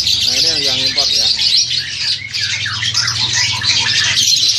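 An imported crested myna calls close by with short whistled and chattering notes, repeated in the first seconds and then trailing off over a steady background hiss.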